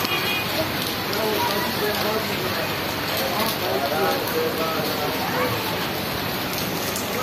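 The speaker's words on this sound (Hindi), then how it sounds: "बहुत बारिश हो गई, बहुत बारिश है" Heavy rain pours steadily in Karachi, a dense continuous hiss of drops on surfaces and umbrellas, loud and close throughout, with people talking faintly beneath it.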